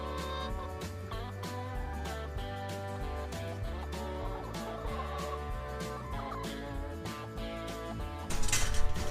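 A broody hen clucks repeatedly among other fowl in a henhouse, steady low clucking and murmuring throughout, with a brief louder burst near the end.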